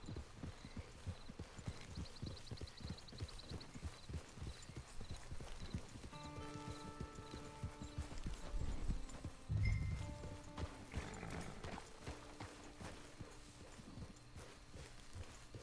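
Horse hooves clip-clop steadily in the video game Red Dead Redemption 2, a close, regular rhythm with a brief whinny and some in-game background sounds.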